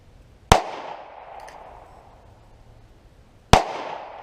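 Two sharp, loud gunshots about three seconds apart from a small mouse-gun revolver at an outdoor range, each followed by a short echoing decay.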